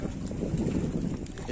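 Motorboat engine drone and wind on a short boat crossing at sea toward a tomb in the middle of the water, a steady low rumble with people talking faintly.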